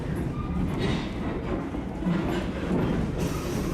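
A Strasburg Railroad passenger car rolls steadily along the rails, a continuous loud rumble with faint clickety-clack of wheels on track, heard from inside the train with no talk.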